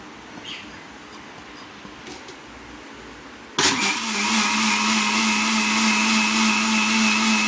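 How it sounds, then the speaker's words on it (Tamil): A mixer grinder jar blending a kulfi mixture starts abruptly after a few seconds of quiet room noise, then runs with a loud, steady, high-pitched motor whine and whirr until the end. "நம்ம மிக்சி ஜாரில் வந்து அடிக்க போகிறோம்"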